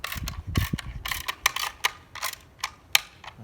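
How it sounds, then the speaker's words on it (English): A bolt being tightened onto a spa cover lifter mount gives a series of close, sharp ratcheting clicks and metallic ticks in an uneven rhythm, with no speech. "go ahead and get this ready and go ahead and start tightening this down"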